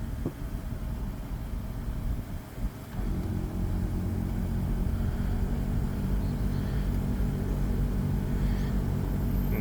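A Lincoln LS air suspension raises the car from a fully charged air tank. It gives a steady, close mechanical hum and rush that swells after a brief dip and then holds level, with no talking.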